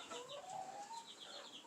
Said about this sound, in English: There's a black hen laying now.